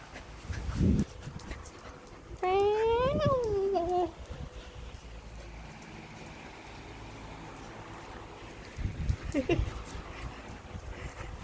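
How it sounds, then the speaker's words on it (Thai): A cat gives one drawn-out, wavering meow, loud and close, between stretches of quieter background noise and brief thumps. "แมวมาแล้วเสียงแมว"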